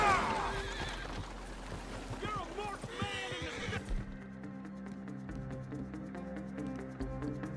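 Horse neighing and whinnying in the Red Dead Redemption 2 video game, with clip-clop hoofbeats and someone talking over it, then the game's low ambient music taking over.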